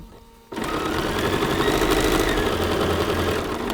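A sewing machine runs steadily while stitching a chenille quilt made from quilt panels, starting abruptly after a brief quiet moment and holding a continuous, close, even motor whir with rapid needle pulsing throughout.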